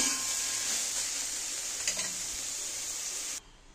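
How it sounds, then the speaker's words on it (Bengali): Soybean chunks and potatoes fry in hot oil with a steady, moderately loud hiss and a few soft stirring scrapes before the sound abruptly stops, with no talk. "দেখো সোয়াবিন আলুগুলো ভাজা হয়ে গেছে, এবার আমি তুলে নেব।"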